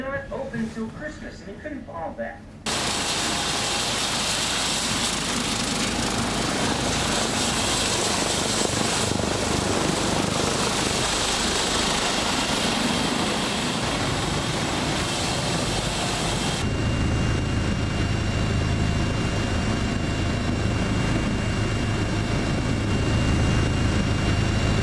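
A helicopter's steady rotor and engine roar fills the scene, loud and continuous, with a deeper drone building toward the end as it draws nearer.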